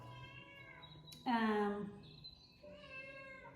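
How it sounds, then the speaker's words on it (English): A house cat cries nearby with a few plaintive meows, one long and loud in the middle, while it waits to be let in. A faint voice sits beneath. "excuse my cat's crying in the background"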